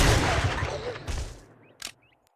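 A shotgun blast in the video game 7 Days To Die opens with a loud, close boom that quickly decays, followed by a smaller sharp report as things go quiet.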